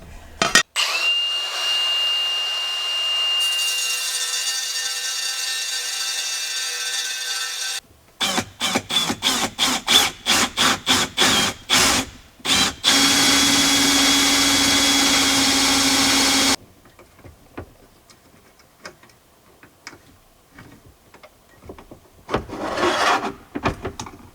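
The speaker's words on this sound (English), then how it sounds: "I'm gonna have to go on the grinder and cut on each side" An angle grinder cutting a metal plate for a van desk build, a loud sustained whine, then a run of rapid short bursts and another long cut, with fainter scraping afterward.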